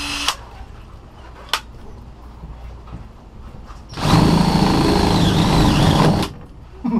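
A power drill whirs loudly and steadily for about two seconds, drilling a hole in the bottom of a paddleboard, with a couple of sharp clicks and quiet background noise before it starts.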